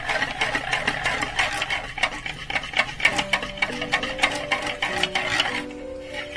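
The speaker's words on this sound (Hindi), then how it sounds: "व्हिस्क की हेल्प से हम इसे मिक्स करेंगे।" Whisk stirring melted butter and chocolate for walnut brownies, rapid close ticking of wire against a bowl in a fast, even rhythm, with no speech.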